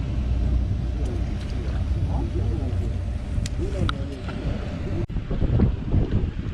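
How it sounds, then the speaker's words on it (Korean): Strong wind buffets the microphone on a fishing boat at sea while squid-jigging off Samgilpo. There is a constant loud rush with water slaps, and someone talks over it throughout. "바람이 커져가지고 많이 힘든데요"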